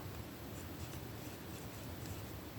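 A broad steel fountain pen nib scratches across paper with a faint, continuous, dry rasp, up close and quiet.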